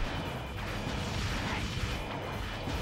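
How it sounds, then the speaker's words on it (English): Shock Cannon firing in Ratchet and Clank 3, a continuous heavy barrage of crashing blasts and mechanical whooshes, loud and dense across the short stretch. "I empty out the rest of my shock cannon ammo"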